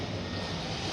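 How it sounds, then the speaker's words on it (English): A fixed-wing airplane drones steadily overhead as a continuous broad engine roar, moderately loud and alone, with no voices. "Airplane"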